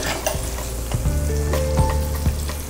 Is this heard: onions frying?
yes